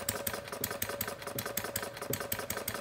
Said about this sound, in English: Now that's running pretty fast, so we can start closing down the throttle a little bit at this point.